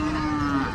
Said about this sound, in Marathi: शांत गाय आहे.